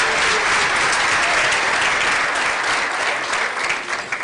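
Audience at an award dinner applauding a student award recipient, a loud, thick, continuous round of clapping from a large room that holds steady, then loosens slightly near the end.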